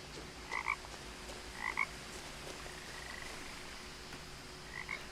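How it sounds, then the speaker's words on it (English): Short, bright frog croaks from What Remains of Edith Finch come in three brief clusters, each a quick double call, over a quiet steady background hum. "I can hear a frog"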